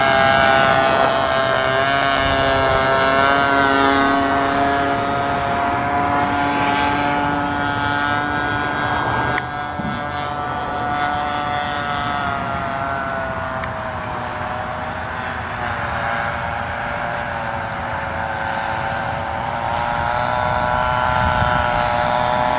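A 60-size Reactor model biplane with a bright orange finish flying overhead, its engine giving a steady, loud, high-pitched droning whine that holds for over twenty seconds with slight shifts in pitch as it passes.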